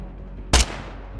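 A single sharp gunshot cracks out loud and close, a brief burst that decays quickly into a quiet background.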